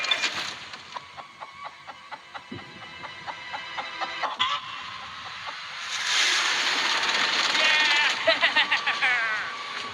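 Chicken clucking in short repeated bursts on an island, with voices and busy background noise rising in the second half.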